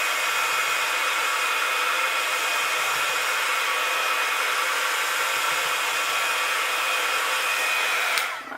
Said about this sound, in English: Give this a bit of a blast with the heat gun.